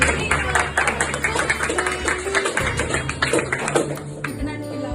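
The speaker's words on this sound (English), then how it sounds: "Please give him a round of applause." Audience applause at a school cultural carnival, a mix of individual claps and light tapping, fairly close and steady for several seconds, with murmured voices mixed in.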